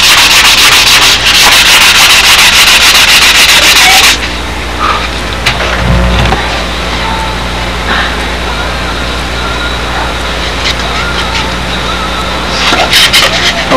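Loud, steady rubbing of sandpaper on a wooden part for a Windy Sidewinder build, starting as dense, rapid strokes and then easing into quieter, intermittent scraping over a low background hum.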